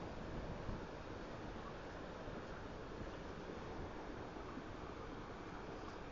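Strong wind gusts of about 75 mph in southeast Oklahoma roar continuously, a dense, loud rushing noise that buffets the microphone with no break.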